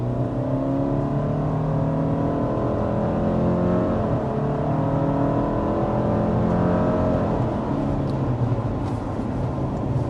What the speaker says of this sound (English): there we are, accelerating up to about 60 miles per hour